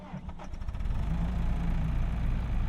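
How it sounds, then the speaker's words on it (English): Tractor engine in Farming Simulator 22 cranking briefly, then catching and settling into a steady, loud, low rumbling idle that holds to the end. "a tractor can't do nothing until you start the engine"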